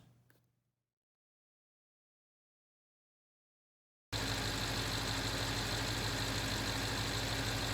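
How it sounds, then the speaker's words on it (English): A BMW X5 engine with freshly cleaned and reconditioned Vanos solenoids idles steadily and loudly, a continuous broadband drone that cuts in abruptly after about four seconds of near silence following a brief faint sound. "As you can tell, the BMW is running now."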